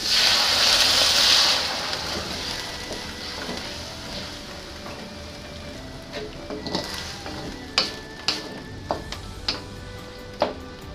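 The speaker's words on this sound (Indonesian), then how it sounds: "Daging sapi tumis kurang lebih setengah matang, lalu tambahkan air panas." Loud hissing sizzle as hot water hits half-cooked stir-fried beef in a hot pan, quickly fading into a gentle bubbling simmer with scattered pops and clinks of stirring.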